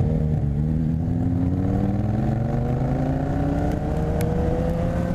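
A motorcycle engine drones steadily while riding, its pitch slowly rising as it accelerates, with wind and road noise underneath.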